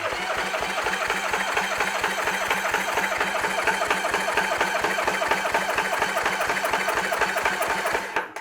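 A Yamaha F50A outboard engine cranks over at full throttle during a compression test of its lower cylinder, giving a fast, even, chugging rhythm that runs continuously before stopping abruptly.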